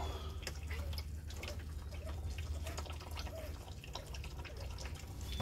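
Used oil draining from an RV generator during an oil change, a steady close trickling and dripping wash of liquid that runs continuously without a break and with no voices.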